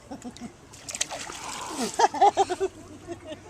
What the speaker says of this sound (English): Don't you splash water at me, you rotten thing.